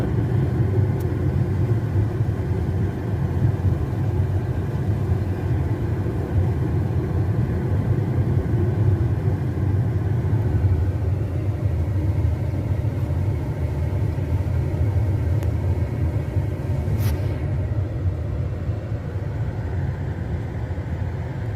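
A Fownix FX car on a test drive gives a steady, loud engine rumble and road noise from inside the cabin, holding an even drone throughout.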